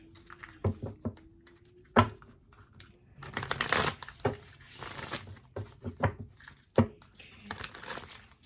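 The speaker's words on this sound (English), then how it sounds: "Let's pull some more cards here for you." Tarot cards are pulled and shuffled close by, giving soft papery riffles, slides and crisp taps in irregular bursts, with a longer flurry of shuffling in the middle.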